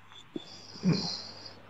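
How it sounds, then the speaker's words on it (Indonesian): A man snores while sitting nearby during an indoor conversation, giving one rough, wheezing inhale that swells and fades, faint under a low room hum with a brief sound just before it. "Ini ada yang ngorok Bang"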